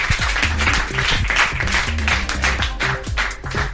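A live studio audience on a French television show applauds a guest, a steady burst of dense clapping under background music, loud and continuous.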